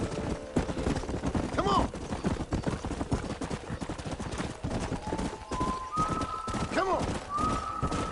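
Horse hooves galloping in the Red Dead Redemption remaster video game, a rapid clip-clop under shouting voices and music, with a neigh and distant gunfire in the mix.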